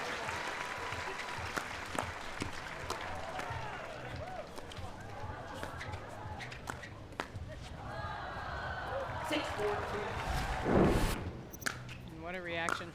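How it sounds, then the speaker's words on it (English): A crowd applauds and cheers at a pro men's doubles pickleball match at the U.S. Open, the steady clapping building toward the end, with a commentator's voice running over it. "And what a reaction from the crowd."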